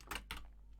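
A computer keyboard being tapped while code style settings are set up in IntelliJ, two quick key clicks close by, then quiet.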